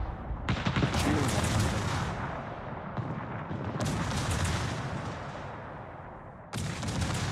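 Battleship main guns in World of Warships, the USS Wisconsin, fire a salvo: heavy booming blasts crack loud and close, followed by long rumbling rolls, with further shots cutting in partway through.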